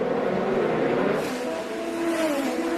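IndyCar race cars roar through the street circuit at St. Petersburg during the 2015 season-opening round, a loud, continuous engine howl whose pitch rises and shifts as the cars pass.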